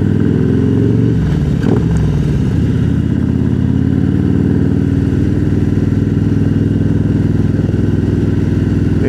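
Harley-Davidson motorcycle engine idling up close, a loud, steady low throbbing rumble with a dense rhythmic beat that holds throughout, with a brief clatter near the start.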